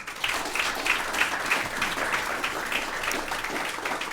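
Steady, even applause from an audience of young entrepreneurs at a pitch competition, continuous and moderately loud with no break.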